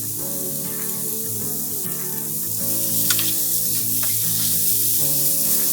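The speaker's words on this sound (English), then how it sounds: "Add the leeks and cook them until softened, about 3 to 5 minutes more." Leeks sautéing in a pan for a quiche, a loud, continuous sizzle and frying crackle up close with a few brief stirring clicks and no voices.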